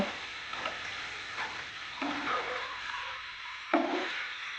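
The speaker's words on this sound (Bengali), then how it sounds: "এখন ডিমগুলো খুব ভালোভাবে মশলার সাথে মিশিয়ে দিব" Boiled eggs that were fried beforehand are stirred into sizzling masala in a pan, with a continuous frying hiss and occasional scraping strokes of the spoon, close and steady, with no talk.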